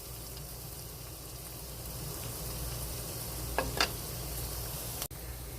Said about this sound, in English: So you want to coat these in the oil and then saute them up until they're transparent,